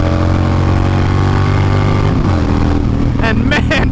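Yamaha Stryker chopper-style motorcycle engine running loud and close, a dense steady rumble that stays constant, with a voice talking over it near the end.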